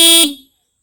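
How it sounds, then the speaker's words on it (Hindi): Horn of a BMW G310 GS motorcycle gives a single short, loud, bright blast that cuts off and decays within half a second, with no talk. "ओके, अगर हम हॉर्न की बात करें"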